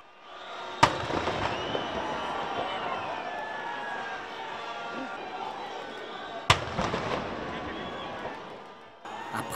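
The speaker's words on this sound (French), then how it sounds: "21 coups de canon." Two sharp, loud booms roughly six seconds apart from a 21-gun cannon salute, each echoing over a steady wash of crowd and outdoor noise.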